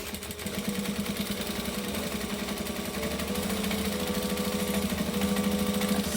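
Domestic sewing machine stitching steadily along a fabric edge, a continuous close mechanical whirr with a fast even pulse, running alone at a constant pace throughout.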